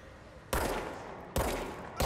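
Gunshots in the video game Control: three sharp, loud blasts spaced apart, each with a short decaying tail, and no talk over them.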